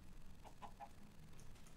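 A Minecraft chicken clucks three short times in quick succession, faint and a little distant over a low background hum.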